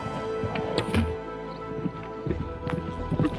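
Horses hooves clip-clopping at a run in a documentary battle scene about mounted Hun warriors, with repeated thudding hoofbeats and layered low rumbles throughout.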